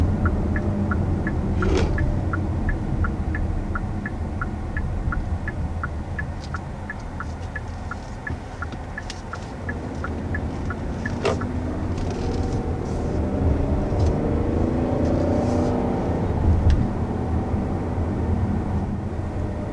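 2020 Hyundai Palisade engine while driving, a quiet, smooth low hum and road rumble from inside the cabin, steady throughout with a faint regular ticking and no talk.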